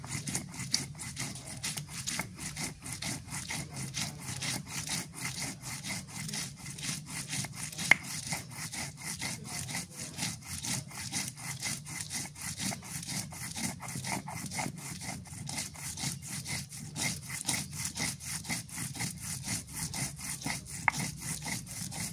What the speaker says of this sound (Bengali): কাঁচা মরিচ আর পেঁয়াজ বেটে নি